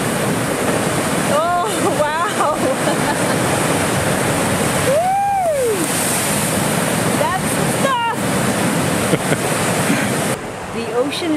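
Ocean waves breaking on the rocky Newfoundland coast along the Burnt Head Trail at Cupids, a loud continuous wash of surf and wind with people talking over it at times.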